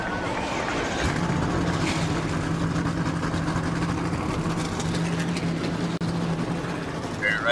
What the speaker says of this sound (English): engines have been fired up